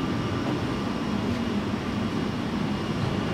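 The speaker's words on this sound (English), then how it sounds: "These are Siemens 400 LRVs." Steady low rumble and rolling hum of a moving Siemens 400 light rail vehicle, heard from inside, with no voices.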